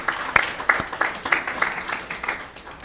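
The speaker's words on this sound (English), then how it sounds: "Let's give her a round of applause." Applause from a lecture audience, a moderate patter of hand claps with distinct individual claps spaced through it, fairly near and fading slightly at the close.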